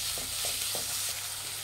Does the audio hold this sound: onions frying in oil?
yes